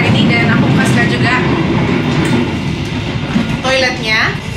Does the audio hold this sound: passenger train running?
yes